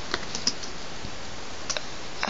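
A few scattered keystrokes on a computer keyboard, sparse close clicks with short pauses between them over quiet room noise.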